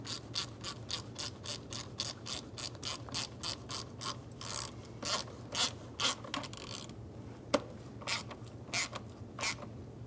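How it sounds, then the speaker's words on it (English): A ratchet clicks in short repeated bursts, near and crisp, while tightening an air box hose clamp on a 2000–2007 Ford Taurus with an 8mm driver, with brief pauses between strokes and one sharp tap. "we're going to tighten down the clamp here with an 8mm or a flathead screwdriver"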